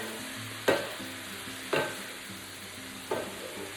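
Bacon and onions frying in a home country kitchen for Texas-style red beans and rice, with a steady sizzle broken by three sharp scraping stirs spaced about a second apart, close and moderately loud, no talking.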